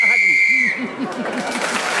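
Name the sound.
whistle blown to end a round on a radio panel game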